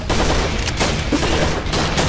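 A dense burst of gunfire from a gunfight scene in a short film, loud rapid overlapping shots with a brief pause before the volley resumes.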